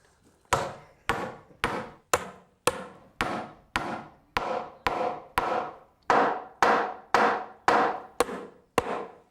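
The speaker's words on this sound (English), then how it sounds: "What we need now is the lump hammer." A heavy lump hammer strikes wooden boards in a steady series of about fifteen sharp nailing blows, each ringing briefly before the next, with no voices.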